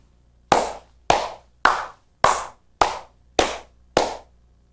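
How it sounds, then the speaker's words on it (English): A single pair of hands claps seven sharp, evenly spaced beats in a choir rehearsal space, each crisp smack ringing briefly before the next, with quiet gaps between. "I would like to have you demonstrate, Stephen, what happens with the sound when you clap even beats from here to there"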